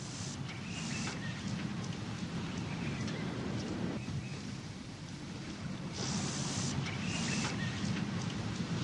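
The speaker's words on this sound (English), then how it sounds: "bringing the sweet scent of life-giving rain. Lightning flashes across the night sky." Night rain and a thunderstorm over the African savanna: steady, dense rainfall hisses throughout, with deep rolling thunder rumbling beneath it and no voices.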